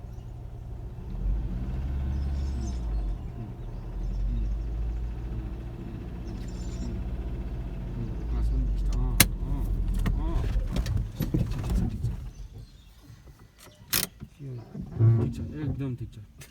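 A car moves along during a driving lesson, its engine a steady low rumble under ongoing talk, with a couple of sharp clicks near the end.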